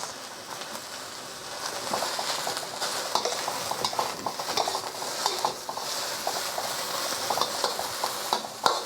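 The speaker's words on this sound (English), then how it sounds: "Just find the wok is easier to stir fry all the ingredients together." Chow mein noodles and red peppers stir-frying in a wok, a steady sizzle with scraping and clinking of a utensil against the metal pan, close and moderately loud, with no talking.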